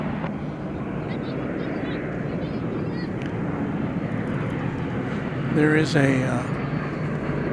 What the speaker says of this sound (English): 787-8 Dreamliner headed over the bridge. It's going to Santiago